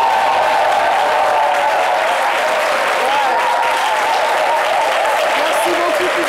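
A studio audience on a midday talk show applauds loudly and continuously while a voice speaks over the clapping.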